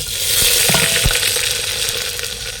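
Mustard seeds, cumin, fenugreek and dried chili sizzle loudly in hot oil, a dense continuous frying hiss with small pops and a stirring clatter near the start.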